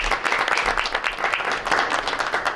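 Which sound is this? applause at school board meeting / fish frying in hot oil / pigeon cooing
applause at school board meeting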